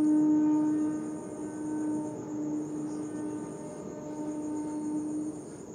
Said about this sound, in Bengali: আমাদেরকে ট্রেনের আওয়াজ আসছে, প্রচুর আওয়াজ।